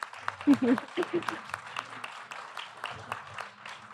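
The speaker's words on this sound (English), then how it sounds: "give a round of applause for Pheline." Scattered applause for a guest at a Millerntor Gallery art event, a light patter of a few hands clapping while a voice murmurs briefly over it near the start.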